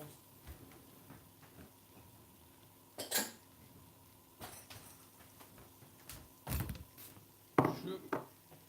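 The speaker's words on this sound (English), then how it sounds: "I'm just going to get a few bowls." Bowls are taken out in a home kitchen, giving a few scattered ceramic clinks and knocks against a quiet room, separated by pauses, the loudest bursts near the end.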